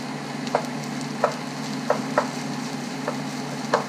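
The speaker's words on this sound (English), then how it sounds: "Try to break up the rice as much as possible." A utensil stirs and breaks up fried rice with eggs, corn, carrots and ham in a pan, with sharp scraping taps about every half second over a steady low sizzle.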